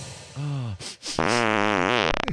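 Comic fart sound effect for a parody perfume advert: a long, loud, wavering tonal blast, a brief pause, then a second, longer buzzing fart that carries on to the end, with no voices.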